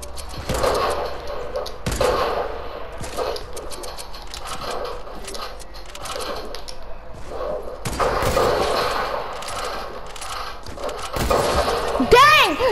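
Video game gunshots crack repeatedly, sharp bursts and rapid fire scattered throughout, heard under frequent speech.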